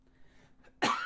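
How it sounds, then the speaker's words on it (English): Quiet room tone, then one sudden, sharp cough close to the microphone near the end. "Excuse me, I got a cough."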